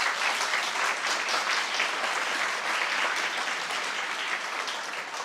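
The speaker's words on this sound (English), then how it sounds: "Give them another round of applause." A school sports awards crowd applauds the Mount Vernon coaches, a dense, sustained clapping from many hands that holds steady for several seconds, fairly loud and with no voices above it.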